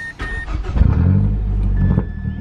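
A Mazda Speed 6 fitted with a Corksport blow-off valve starts up close by, a quick crank catching into a loud, steady idle rumble that holds to the end.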